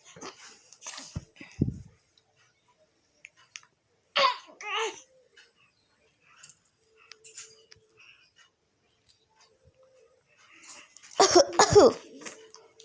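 A baby gives several short, sharp coughs and throat-clearing sounds at intervals, close and fairly quiet, with adult voices prompting between them.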